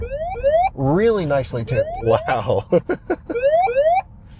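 In a Nissan Ariya stopped with its hazards on, the ProPilot driver takeover warning sounds as a series of rising electronic beeps, interrupted by a voice speaking over part of it.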